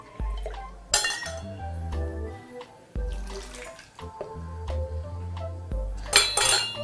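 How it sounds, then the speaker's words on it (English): Hot water is poured into a glass V60 coffee dripper setup and swirled to preheat it, with soft splashing, several sharp glass clinks and a burst of pouring toward the end. "You swirl it, you just pour like you're making tea."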